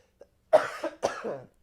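A single short cough followed by a second, with a faint click before; close and clear against silence.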